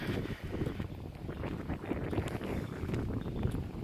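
Strong wind buffets the microphone outdoors on a gravel road, a steady loud rumbling gust with no other clear sounds.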